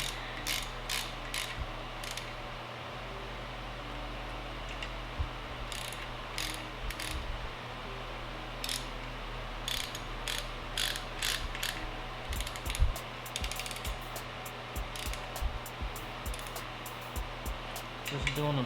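Ratchet clicking as cam bolts are snugged down on a Crown Victoria engine, irregular runs of close, crisp clicks with pauses between strokes over a constant low hum.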